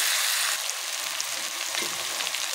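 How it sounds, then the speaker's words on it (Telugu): Tomato pieces fry in a pan, giving a continuous close bright sizzle with occasional soft stirring knocks underneath. "1 నిమిషంలో టమాటా ముక్కలు ఉడుకుతున్నాయి."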